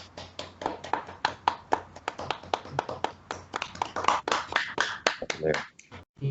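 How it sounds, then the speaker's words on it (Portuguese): A small group at a landscape-architecture meeting claps for a few seconds, producing close, sharp, uneven individual claps that build into a brief patter before dying away. "Palmas para o nosso querido Rafael."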